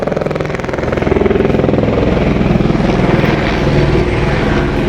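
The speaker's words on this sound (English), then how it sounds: "You can hear the helicopter behind." A helicopter's steady rotor thrum and engine drone fills the background at Ramoji Film City during filming, loud and continuous with a rhythmic chop throughout.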